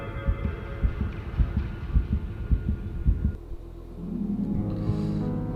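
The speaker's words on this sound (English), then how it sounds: "That heartbeat." Heartbeat sound effect from an episode of the TV crime drama Dexter, a slow, deep thumping pulse repeating in a steady rhythm under a low hum, then giving way to a sustained droning tone.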